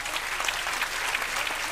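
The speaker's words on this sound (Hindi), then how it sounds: "आपकी तालियां" Audience at a Hindi book launch and question session applauds, a dense, even burst of many hands clapping at moderate loudness throughout.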